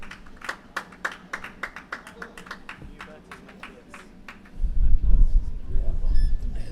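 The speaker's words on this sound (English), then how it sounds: "he's getting a rousing applause here" Spectators at an over-55s cricket match between Australia and Canada in Cape Town clap for a departing batsman, sparse distinct claps under a commentator's voice, followed by a louder burst of low rumbling noise near the end.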